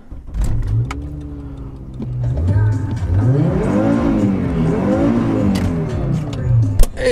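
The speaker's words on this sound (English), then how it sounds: "It's always good to heat the engine first with some revving." A Volvo car engine revs repeatedly after starting, rising and falling in a few rounded sweeps, close and fairly loud, with a brief voice near the start.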